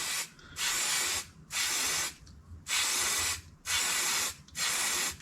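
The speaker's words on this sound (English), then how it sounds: "now you get it in a spray can and you just spray down each pleat" Five long bursts of aerosol spray hissing from a can onto each pleat of an air filter during a classic Mini twin SU carburettor rebuild, close and steady, separated by short pauses.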